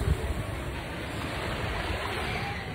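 Ocean waves at Waikiki beach make a steady, broad wash of surf with some wind noise, continuous and moderately loud, with no voices.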